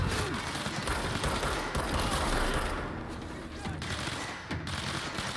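Gunfire in the video game Control, a dense, continuous roar of shots and impacts filling the whole stretch, loud and close, easing slightly midway before picking up again.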